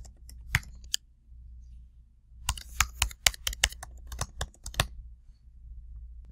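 Typing on a computer keyboard to fill out a sign-up form: a few isolated key taps, a pause, then a quick run of crisp clicks heard up close, with no speech.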